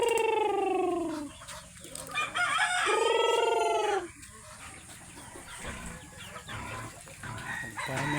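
A rooster crows loudly twice in long drawn-out calls, with native chicken hens clucking and cackling around it in a busy farmyard.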